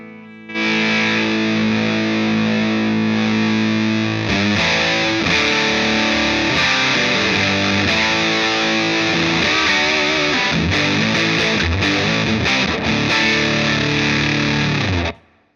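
Heavily distorted electric guitar, distortion control at maximum, playing loud, sustained chords and riffs with a thick, saturated buzz, continuous for about fifteen seconds with no talking.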